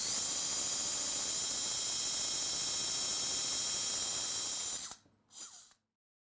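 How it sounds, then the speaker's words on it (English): A surgical power driver inserts a screw into a 3.5 mm variable-angle locking plate on a bicondylar tibial plateau fracture, giving a steady, loud whir for about five seconds before it cuts out, followed by one short second burst. "The screw insertion steps are repeated at the most distal end of the plate"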